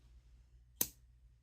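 A Diplomat Viper fountain pen's magnetic cap snaps shut in a single sharp, close click, alone against a quiet background.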